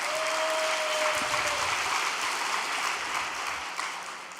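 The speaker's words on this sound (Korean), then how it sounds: "천심원 철야 정성팀에게 감사의 박수를 올리면서" An audience at a Korean religious gathering claps together in sustained applause, a dense, even patter of many hands that fades slightly toward the end, with no speech over it.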